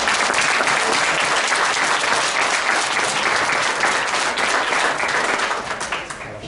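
A crowd claps for the winners of a sustainability poster competition, producing dense, loud, continuous applause that carries steadily for several seconds and eases off slightly at the end.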